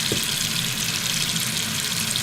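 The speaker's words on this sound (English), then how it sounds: "you're going to start adding water. And when that water gets up to your hands in the pot" Tap water runs loudly and steadily into a pot of old-fashioned collard greens, a close, continuous gushing rush.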